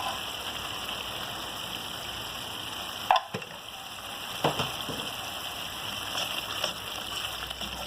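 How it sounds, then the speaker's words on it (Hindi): Spices and chopped chili frying in a pan for seekh kabab, a continuous close sizzle with a sharp clatter of stirring near the middle and a few softer scrapes after, no talking. "ये बस 1 मिनट के लिए हम भूनेंगे कि जो मिर्च है वो पक जाए"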